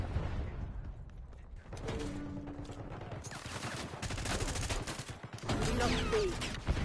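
Gunfire crackles in Call of Duty Black Ops 6, rapid bursts and single shots scattered over a busy game soundscape, moderately loud throughout with brief lulls.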